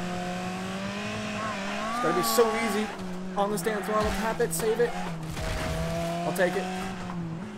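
A race car in the WreckNADO racing game, its tires spinning and squealing under feathered throttle while the engine drones with wavering revs, close and loud, with someone talking over it.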